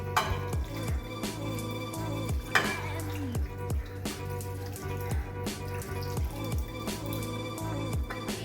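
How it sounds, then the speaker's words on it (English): Leftover oxtail stew liquid pours from a pressure cooker into a Dutch pot, a steady close wet pouring with occasional clinks of metal against the pot, no voices. "I'm going to pour what's left within the pressure cooker within the Dutch pot"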